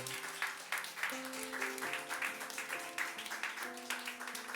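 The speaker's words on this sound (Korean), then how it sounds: "우리 앉아 계신 분들은 또 큰 박수로 축하해 주시기 바랍니다." Audience applause at a coming-of-age ceremony, moderately quiet clapping running through the clip while sustained music notes play alongside it.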